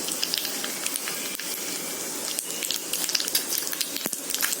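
Mustard seeds, cumin seeds and a red chili frying in a spoonful of hot oil, giving a steady close sizzle and hiss with scattered small pops and crackles throughout, no voices.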